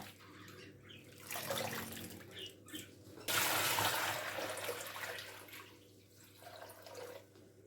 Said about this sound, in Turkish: Şimdi bunu süzgeci alacağım. İki seferde yıkayacağım.